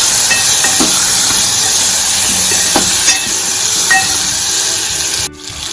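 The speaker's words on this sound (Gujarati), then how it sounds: "તો તેમાં હવે આપણે ગુંદા એડ કરી દઈશું મિક્સ કરી લઈશું" Loud, continuous hissing sizzle as gunda (glue berries) go into hot oil for a pickle-style sambharo, with a few faint stirring scrapes under the roar and a sudden drop near the end.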